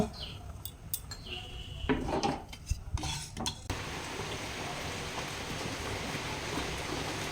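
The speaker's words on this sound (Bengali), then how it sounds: "গ্যাসে একটা কড়া বসিয়ে দিচ্ছি ধনে রাঁধুনি রোস্ট করে নেব" Whole coriander and radhuni seeds dry-roast in a karai pan on a gas flame, first clinking and scraping of a spoon against the metal, then a soft steady rustling hiss, faint and close with no speech.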